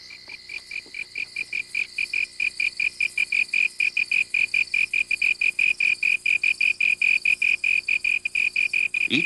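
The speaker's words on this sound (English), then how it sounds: "the sound made by the slender tree cricket that shapes them" A slender tree cricket chirps at night in rapid, steady pulses that repeat without pause, loud and close, with a faint second insect trill underneath.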